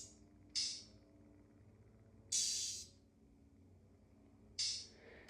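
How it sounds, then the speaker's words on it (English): Three bright, hissy cymbal hits spaced a couple of seconds apart, each with a short sizzling decay, sound alone against quiet background. "And then, of course, you can't forget about the hi-hats."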